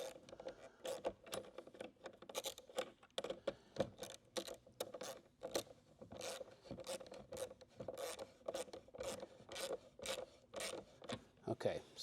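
Nuts being tightened with a ratcheting hand tool to draw a dash vent into a 1974 Camaro dash during an interior restoration, giving steady, close rasping clicks and scrapes that repeat for the whole stretch.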